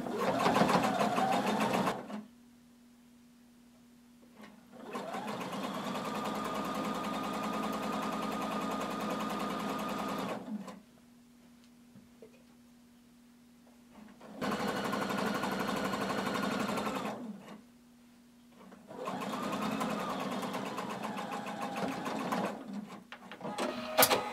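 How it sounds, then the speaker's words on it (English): A sewing machine stitches a tunic hem along the cut edge of the hem allowance, running in three long steady bursts separated by pauses, with a constant low hum underneath. "I'm going to sew with my presser foot along the cut edge of my hem allowance."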